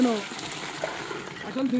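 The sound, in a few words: liquid organic fertilizer poured directly onto plants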